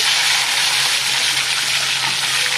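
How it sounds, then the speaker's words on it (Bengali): Washed salted fish is slipped into very hot oil in a pan, giving a loud, steady, unbroken sizzle that hisses throughout without a pause. "এখানে নোনা মাছগুলো আমি ধুয়ে নিয়েছি। এই যে তেলে দিয়ে দিচ্ছি, দেখুন।"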